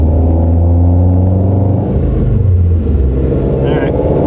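A 2022 Subaru BRZ runs on a dyno in fourth gear, its engine a loud, steady low rumble with layered harmonics that shift slightly as revs change, filling the whole clip with no break.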